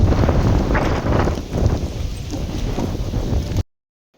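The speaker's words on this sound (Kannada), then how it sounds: "ಗಾಳಿ ಅಂತೂ ಸಿಕ್ಕಾಪಟ್ಟೆ ಗಾಳಿ" Heavy wind buffeting a microphone, a loud rumbling roar that rises and falls, then cuts to silence near the end.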